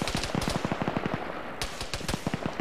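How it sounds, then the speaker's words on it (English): Vehicle-mounted gun firing in the Arma 3 video game, rapid bursts of loud repeated shots in an uneven rhythm that continue through the whole stretch. "Vehicle is still firing, which is a bonus."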